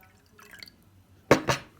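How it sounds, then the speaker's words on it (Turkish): Water poured into a drinking glass for a salt, oil and mandarin experiment, heard as two short splashy gushes close by after a quiet start. "Şimdi yine bardağımızı su dolduruyoruz."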